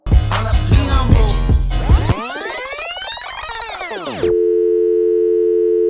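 Electronic telephone tones on a line to a number not in service: music gives way to a sweep of rising and falling chirps, then a steady, continuous tone holds to the end.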